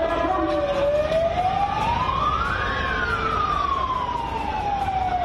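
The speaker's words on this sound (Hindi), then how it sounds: "पुलिस के सायरन की आवाज भी आप" A police siren wails during street clashes between BJP workers and police in Kolkata, its pitch rising then falling in a long sweep over steady crowd and traffic noise.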